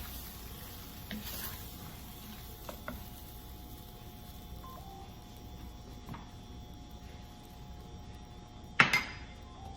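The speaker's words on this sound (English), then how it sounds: "I'm gonna add this ground beef back in." Ground beef sizzling in a pot of chili, a quiet, steady crackle with a few spoon clinks and one louder clatter near the end, no one speaking.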